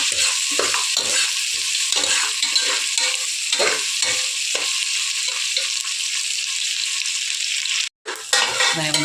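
Chopped onions sauté in a pan for mushroom biryani, giving a steady close sizzle and frying hiss while a utensil stirs and scrapes in repeated strokes, with a brief break near the end.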